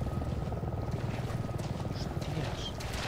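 Helicopters in the video game Resident Evil 7 keep up a constant, throbbing low rumble over marshland, with a few faint higher ticks and distant noises on top and a trace of voice underneath.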